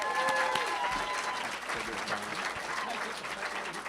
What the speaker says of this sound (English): Clap for Tom